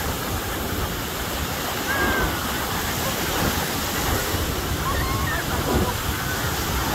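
Big ocean waves crash and surge steadily on Pensacola Beach, a continuous loud roar of surf with overlapping breakers and faint voices mixed in.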